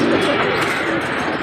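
A female pigeon coos softly at close range in a short, brief burst, over a faint background murmur.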